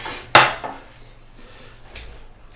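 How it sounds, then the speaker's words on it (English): Metal oven trays set down in a kitchen, one sharp clattering clank near the start followed by a softer knock, close and alone with quiet room tone. "So a couple of oven trays right here."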